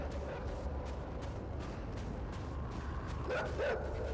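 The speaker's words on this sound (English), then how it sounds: "Ooh, I hear the dogs." Dogs bark in the video game Inside, a few short yips and barks rising over a low, steady ambient rumble, fairly distant and not loud.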